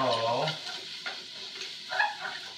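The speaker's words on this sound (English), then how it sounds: "let's keep stirring because we don't want the rice, like I said, burn" Rice frying in a pot for Mexican chicken soup, stirred with a spoon, giving a bright crackling sizzle with a few scraping strokes and light knocks against the pot.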